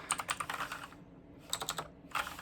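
Keys click on an Onn gaming keyboard in two quick clusters of presses, separated by a short pause, close and moderately quiet.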